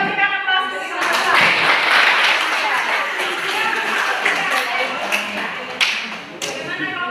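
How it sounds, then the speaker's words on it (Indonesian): Classroom applause for a student group, a burst of many hands clapping in a room that starts abruptly, holds steady, then thins into scattered claps, with voices talking over it. "Oke, kita berikan aplaus untuk yang kedua."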